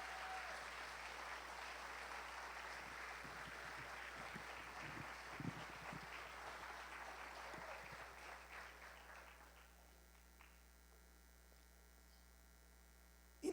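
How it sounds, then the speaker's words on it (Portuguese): Sustained applause from a church congregation during a sermon fills the first ten seconds, then fades into a quiet electrical hum. "Dá um aplauso forte ao Senhor Jesus"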